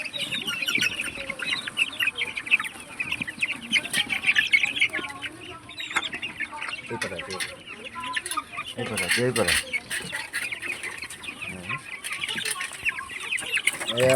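A flock of chickens clucking and squawking busily, with bursts of wing flapping and scattered calls, close by and lively throughout.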